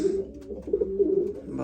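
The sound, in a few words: racing pigeons cooing in loft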